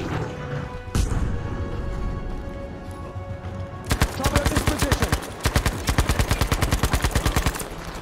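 Gunfire in Battlefield, a single heavy shot near the start, then rapid automatic bursts in quick rhythmic succession, loud and close, with faint talk early on.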